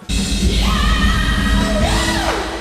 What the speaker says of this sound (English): That one scream from the person at the beginning of the music video